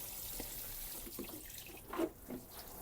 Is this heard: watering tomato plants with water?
yes